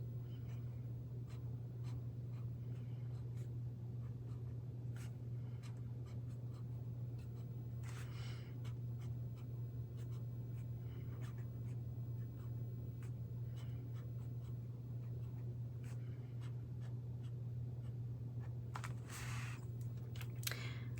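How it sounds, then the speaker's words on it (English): Bullet-tip marker writing on paper in a goal-setting planner: a long run of close, quiet scratchy strokes and small taps over a steady low hum, with no talking. "I'm just going to use the, it says bullet side, but like the not chisel tip side. And I'm just going to write it in here."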